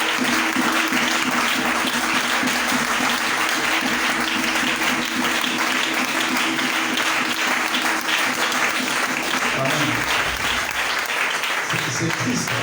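An audience at a church seminar applauds and cheers the bishops in a loud, sustained ovation that fills the hall throughout, with voices calling out over the clapping.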